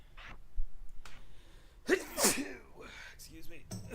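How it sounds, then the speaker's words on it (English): A man sneezes once, loudly and close to the microphone, amid quiet breaths, small sounds and a few brief vocal noises. "Just gotta get my dad sneezes out."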